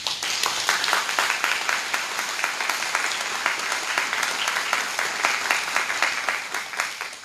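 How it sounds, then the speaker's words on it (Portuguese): A church congregation bursts into sustained applause, steady and dense clapping filling the room for several seconds without letup. "aplauda Jesus"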